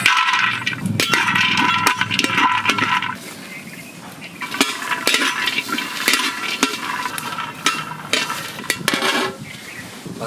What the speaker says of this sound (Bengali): কাজু ভেজে নেব।